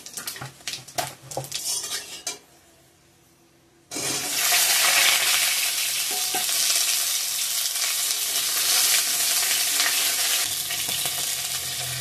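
A few soft clinks and stirs give way to a sudden loud sizzle as panch phoron spices hit hot oil in a pan, the hiss then holding strong and steady for several seconds.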